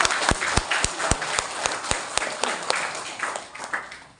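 Applause from an audience, sharp rhythmic claps standing out over a dense wash of clapping, fairly close and loud, tapering off toward the end.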